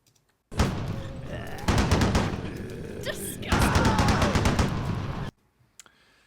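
Bursts of machine-gun fire from sound-effect samples rattle loudly in three rapid, dense volleys separated by short gaps, ending abruptly into near silence.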